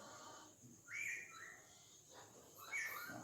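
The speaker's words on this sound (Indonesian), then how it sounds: "Ini kacer silang murai batu." A songbird, a kacer crossed with a white-rumped shama, sings in bright whistled phrases, two clear bursts separated by a pause, fairly faint over a hissy background.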